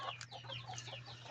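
Farm chickens cluck softly and sporadically at feeding time, quiet and close, with no talking.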